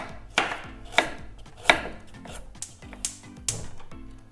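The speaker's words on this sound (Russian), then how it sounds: "возьмем две небольшие моркови или одну крупную и порежем тонкими кружками или полукружками" A knife chops through carrots on a cutting board in a steady series of about seven crisp, close thuds spaced roughly half a second apart.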